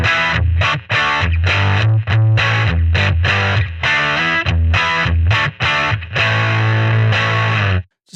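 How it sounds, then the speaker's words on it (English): Electric guitar through the Kazrog Airline V15 amp plugin, reverb off, with a raw, gritty overdrive tone strums loud chords and short riffs in choppy bursts with brief pauses between. "Just this really raw, kind of ruckus overdrive sound."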